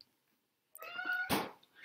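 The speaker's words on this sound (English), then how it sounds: "That wasn't Winkle, that was our cat Aang." A house cat gives one drawn-out meow, a near, moderately loud tonal cry that rises and trails off with a brief rustle afterward, heard alone.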